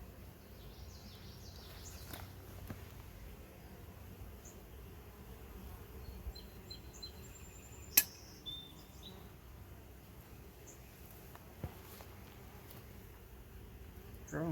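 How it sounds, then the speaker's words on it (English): Honey bees hum steadily from an open hive during a colony split, a close, continuous low drone lasting throughout, with a few faint higher chirps and light clicks over the top. "The way these bees are sounding, I'm thinking the queen's in here."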